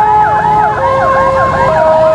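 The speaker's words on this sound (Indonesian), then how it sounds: "Lalu lintas ambulan." An ambulance siren wails loud and close in road traffic, its sweeping up-and-down tones repeating steadily over a steady tone, with no talk.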